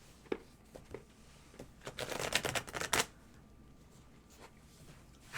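Lenormand cards shuffled by hand during a tarot reading, a cluster of quick crisp riffling and slapping bursts in the middle, with a few isolated taps before and after in a quiet room.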